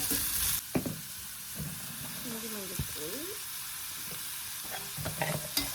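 Carrots and beans sizzle in a pan for paavakai kaara kulambu under a constant frying hiss, with scattered clanks of stirring and a few faint squeaky tonal chirps partway through, and no one speaks.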